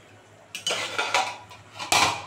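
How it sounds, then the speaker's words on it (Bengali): A metal lid clanks onto a hot cooking pan of Foli fish with cauliflower, giving a few close, sharp rattling knocks and scrapes before it settles. "এই যে এবার ঢাকা দিয়ে দেবো।"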